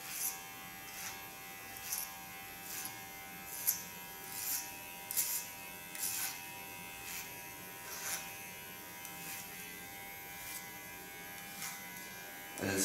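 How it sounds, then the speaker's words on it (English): An electric hair clipper cuts dry hair close up, with a steady high buzz broken by rhythmic bursts of cutting roughly every second and no voices. "it's better to clipper the hair when the hair is not wet"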